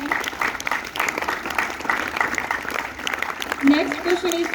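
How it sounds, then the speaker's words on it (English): An audience applauds a team at a biology quiz competition with sustained, fairly loud clapping; a voice speaks briefly near the end. "A big round of applause for the 10th coaching."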